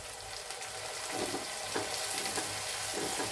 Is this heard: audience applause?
no